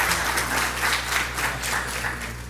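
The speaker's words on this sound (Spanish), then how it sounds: "Un aplauso ahí para don Rigo." Audience applause for don Rigo at an economics talk, steady clapping from a crowd running without a break for a couple of seconds, moderately loud and with no talk over it.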